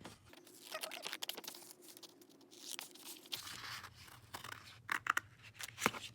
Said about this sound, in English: now we're gonna cut it out